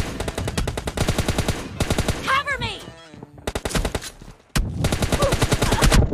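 Rapid gunfire bursts in a mobile shooter game team deathmatch, loud close automatic volleys broken by brief gaps, with a voice talking in between.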